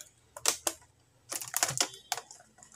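A keyboard is pried out of an HP Compaq Presario V6000 laptop, giving a few sharp plastic clicks and snaps in two short clusters, close and fairly loud against quiet.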